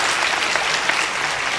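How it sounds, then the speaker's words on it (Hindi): A short burst of loud, dense audience applause at a Hindi comic poetry recital, continuous clapping throughout with no pause. "एक बार घनघोर तालियां बजाइए"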